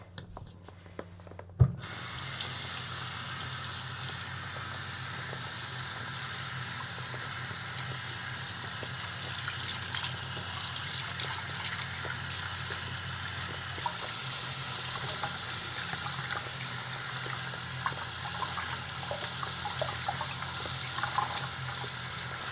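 Tap water runs steadily into a sink while a doll's wig is rinsed, a constant loud hissing stream after a brief clunk at the start, with no talking.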